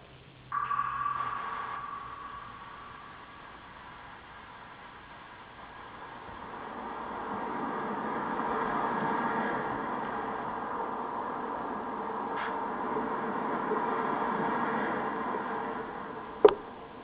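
Hissing white-noise static from the .hack video game, a steady broad wash that swells and fades, with a faint tick near the end and no speech.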